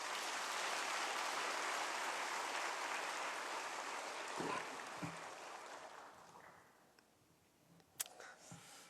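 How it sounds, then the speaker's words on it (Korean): A church congregation gives warm applause to welcome a visiting pastor, a broad crowd of clapping that runs strongly for several seconds, then thins and fades, leaving a few scattered claps and room noise. "현재 포항중앙교회 담임 목사님이신 서임중 목사님을 뜨거운 박수로 맞이해 주시기를 바랍니다."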